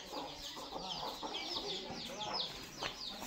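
A rooster and hens cluck close by in a rural farmyard, a quiet run of repeated short clucks and chatter.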